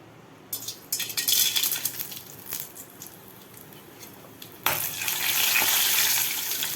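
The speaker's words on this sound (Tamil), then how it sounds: "சுண்டைக்காய் வத்தல் குழம்புக்கு சுண்டைக்காயை வறுக்க போகிறோம்" Turkey berries (sundakkai) fry in sesame oil, a steady sizzle that starts after a brief quiet moment, settles, then swells into a louder, denser crackle near the end, close and with no talk.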